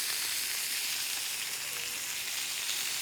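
Beef steak frying in a pan with a knob of butter, a steady dense sizzle and spitting hiss throughout, close and loud, with no talking.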